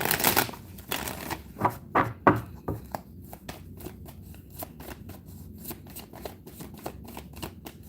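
A deck of cards is riffled and bridged, a quick burst of crisp ruffling snaps followed by lighter, scattered card flicks and soft handling, close and alone.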